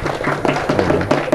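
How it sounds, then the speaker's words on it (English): A classroom gives a short burst of applause, scattered hand claps and taps, fairly close and loud, with some talk mixed in. "How about a little applause for this guy?"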